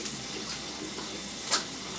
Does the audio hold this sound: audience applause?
no